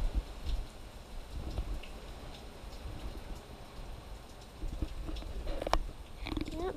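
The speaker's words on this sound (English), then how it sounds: "I'm not going to go out too much because it's raining right now" Hurricane Irma rain patters steadily outdoors, a soft continuous wash with scattered nearer drips and a few brief knocks, no voices.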